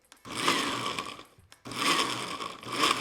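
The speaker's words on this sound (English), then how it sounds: "I'm using the salsa button on my blender to blend it." A blender on its salsa setting whirs loudly at high speed blending chimichurri sauce, cuts out briefly, then starts up again and runs steadily to the end.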